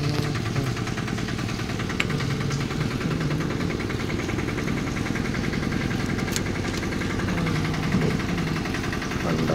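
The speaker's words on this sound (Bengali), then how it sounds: "খুব আস্তে আস্তে গাড়ি চালাচ্ছিলাম আজকে বাইক" A motorbike ridden slowly on a cold, foggy morning, heading back after refuelling, gives a steady low engine drone that holds evenly at close range throughout.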